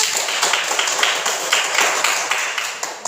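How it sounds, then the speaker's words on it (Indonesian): A group claps hands steadily in a dense patter of applause, fairly close and continuous, with no voices over it. "Terima kasih, tepuk tangan."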